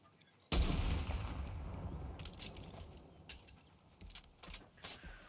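Explosive bullet gunfire in the Fortnite video game comes as a loud sudden burst that trails into sustained rumbling and crackling, followed by scattered shots.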